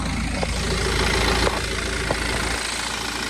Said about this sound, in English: So I'm gonna start by the alternator sound